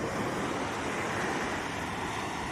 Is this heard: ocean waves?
yes